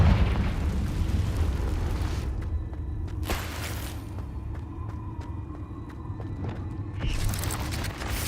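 A Confringo blasting spell explodes in Hogwarts Legacy, a loud booming burst that rumbles for about two seconds, then a quieter stretch of small game noises, and a second swell of blast near the end.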